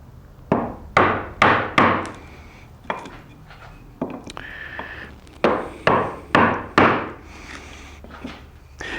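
A hammer of about 3 pounds strikes a Narex woodworking chisel again and again during mortise work, giving sharp, loud knocks in quick uneven groups with short pauses between.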